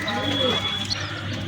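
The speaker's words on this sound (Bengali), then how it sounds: "দেখুন চীনা টেডি কবুতর" A male Chinese teddy pigeon coos softly and briefly, close by, with low murmuring sounds in a short stretch of background noise.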